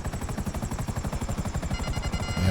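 Helicopter in GTA Online, a steady close rotor thump pulsing in an even fast rhythm over a low engine drone, loud and unbroken with no speech.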